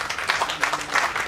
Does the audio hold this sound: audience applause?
yes